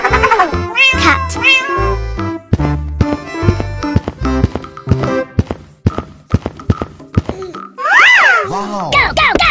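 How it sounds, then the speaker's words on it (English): Cartoon cat meowing repeatedly in a fight cartoon with tigers, wolves, lions and bears, loud and close, with rising and falling cries among thumps and taps and a long drawn caterwaul near the end. "Cat."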